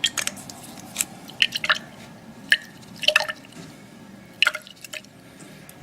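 Dilute ammonia dripped into a silver bromide test solution in a halide test, giving soft scattered drips and small liquid splashes, faint and irregular, with a quiet background and no talk.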